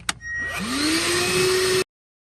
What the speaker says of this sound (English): This little battery operated shop vac has enough ugga-duggas to get all the junk out of this cylinder